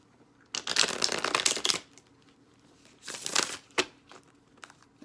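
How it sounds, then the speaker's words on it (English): Tarot cards are shuffled in two quick riffling bursts, close and crisp, separated by a short pause with a few single card flicks after. "We're gonna do another shuffle."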